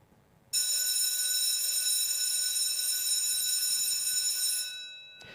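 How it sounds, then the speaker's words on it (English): An alarm bell signalling the start of a horse race with a walk-up start rings loudly and steadily as one continuous shrill tone for about four seconds, then cuts off. "to signal the commencement, they use an alarm bell"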